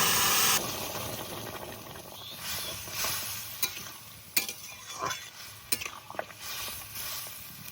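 Bay leaf, radhuni and cumin sizzle in hot oil, a steady frying hiss broken by several sharp crackles and pops from the spices.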